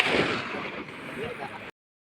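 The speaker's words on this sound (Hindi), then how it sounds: "तो ये भाई अभी फायर करते हुए वो सामने निशान है।" Gunfire at an outdoor shooting range in inner KPK, Pakistan: a sustained loud, rough burst of noise that fills most of two seconds, then cuts off sharply into silence.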